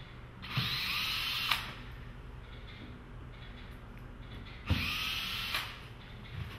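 A power drill backs screws out of an AstroTurf-covered platform, running in two whirring bursts of about a second each over a steady background hum, close and fairly loud, with no speech.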